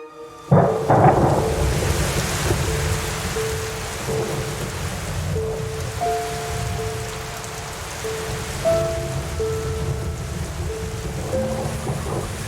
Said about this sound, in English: huddled together under some terrace in the pouring rain